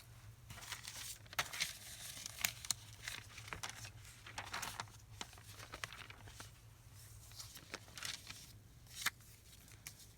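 Paper is cut out by hand for a Christmas embellishment, giving faint, close crinkles and snips scattered irregularly over a quiet background hum, with no talking.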